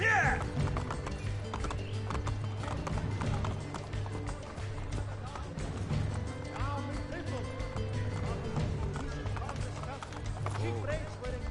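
Horse hooves clop and gallop in a quick, continuous rhythm beneath game music in Assassin's Creed: Brotherhood, with occasional metallic taps and a faint whinny.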